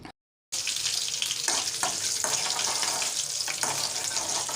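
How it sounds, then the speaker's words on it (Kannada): Curry leaves and green chillies frying in hot oil for a poha khara pongal tempering, a steady close sizzle with a few brief stirring scrapes, heard alone after a short silent gap at the start. "ಈಗ ಇದು ಒಗ್ಗರಣೆ ಆಗಿದೆ ಅಂತಲೇ ಹೇಳ್ಬೋದು. ಅದನ್ನೂ ಕೂಡ 1 ನಿಮಿಷಗಳ ಕಾಲ ನೀಟಾಗಿ ಫ್ರೈ ಮಾಡ್ಕೋಬೇಕು"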